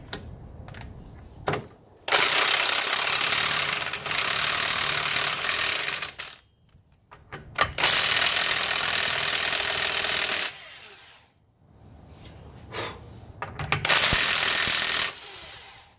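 An impact gun works on the front wheel hub of a Hyundai Santa Fe during a wheel bearing replacement, firing loud, close hammering bursts of several seconds each with short quiet gaps between them.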